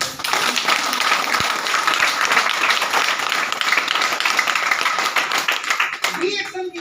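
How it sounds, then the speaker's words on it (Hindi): An audience at an indoor gathering bursts into loud, sustained applause that fills nearly seven seconds before fading at the end, with a voice faintly heard over it. "एक बार जोरदार ताली होना चाहिए।"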